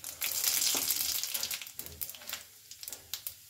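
Dried red chillies and black cumin seeds crackle and sizzle in hot oil left from frying aubergine, a loud, steady fry that breaks into scattered pops toward the end.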